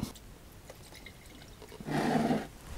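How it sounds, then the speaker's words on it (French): Water pours into a jar to make a soda solution, a short splashing gush after a few faint drips and clicks. "Et je mets de l'eau dedans"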